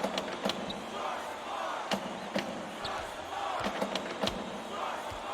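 Crowd noise in a basketball arena from an NCAA college basketball video game, a steady roar of cheering fans with louder bursts and sharp hits layered over it throughout.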